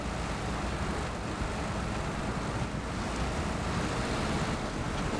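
A truck fords a river in the SnowRunner video game, with a dense, steady rush of churning water and engine rumble filling the whole stretch at constant loudness.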